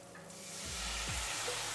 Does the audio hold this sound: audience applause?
no